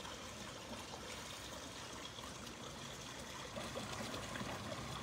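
A stream or river flows around someone's feet as they wade in on a hot day, a soft, even trickle and babble that runs steadily at low volume with no talking.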